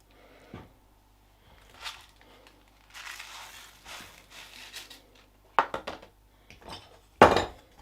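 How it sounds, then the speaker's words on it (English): Risotto rice gets stirred into baked aubergine and onion in a dish, giving scattered gritty scraping and crunching strokes with a few sharper clinks of a spoon against the dish. The strongest strokes come near the end, separated by quiet gaps. "stir in the rice"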